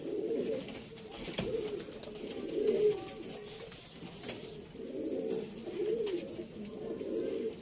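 Pigeons coo softly in a repeated rhythmic pattern at moderate distance, with light background noise and no talking.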